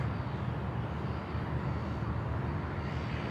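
A Jetstar airliner departs Sydney Airport bound for Osaka, its engines a steady, broad roar that holds at an even level throughout, with no voices over it.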